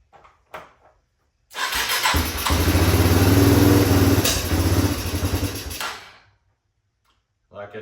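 A Yamaha Timberwolf ATV engine with a fuel-related fault cranks and fires up, then runs with a loud, close, rough roar for several seconds before cutting off, with brief bumps and noises around it.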